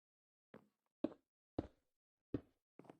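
Glass panes being set into castle windows in Minecraft, five short, crisp placement clicks spaced about half a second apart, close and clear with silence between each.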